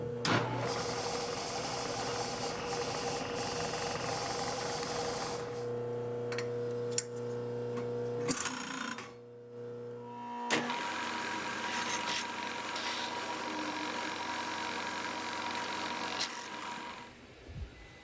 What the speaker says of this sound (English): We're going to center drill and drill that through 3/8.